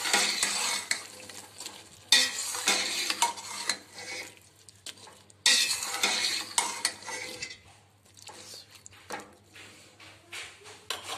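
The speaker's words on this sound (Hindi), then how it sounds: "अब मैं इसमें आलू डाल दूंगी और मिक्स कर देंगे" Potatoes tipped into a pot of softened peas for aloo matar pulao and stirred, with a ladle clanking and scraping in repeated bursts over a soft sizzle, broken by short pauses.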